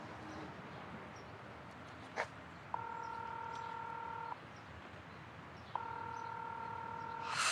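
Two long steady tones sound during a phone call, each lasting over a second with a pause between, like ringback while waiting for an answer, with a brief click before them in a quiet room.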